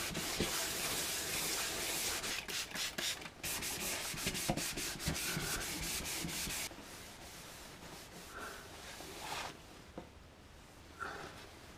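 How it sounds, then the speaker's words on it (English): Hand sanding painted metal with a sanding block and 400-grit paper on a Streak Shadow engine part, brisk rhythmic rasping strokes close up, then slower, quieter rubbing with occasional pauses. "I found my old sanding block that's rubbed many a mini down over the years"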